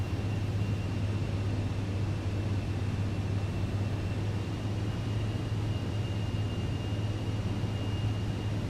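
Steady, continuous drone of a Cirrus SF50 Vision Jet G2 being hand flown on approach into San Diego in Microsoft Flight Simulator 2020, with a constant low hum and faint high whine throughout and no voices.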